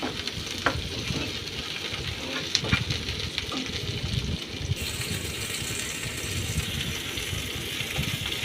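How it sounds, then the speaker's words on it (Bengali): Chopped onions and sliced green chillies fry in oil in a pan with a continuous close crackling sizzle. Occasional scraping taps come from a spoon stirring them. "পেঁয়াজটাকে একটু ভেজে নিচ্ছি তেলে নাড়াচাড়া করে।"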